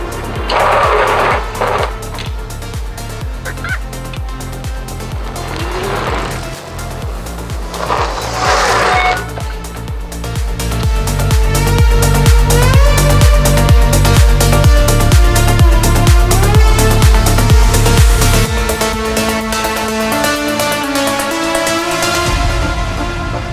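Off-road trike-style vehicle riding along with a loud, whining motor drone that rises and falls in pitch, then eases off as it brakes, steady and close throughout.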